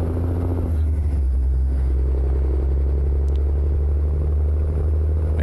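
A deep, steady truck engine rumble in American Truck Simulator drones throughout with a low hum, loud and continuous like a Peterbilt 389 hauling a livestock trailer, with no voices.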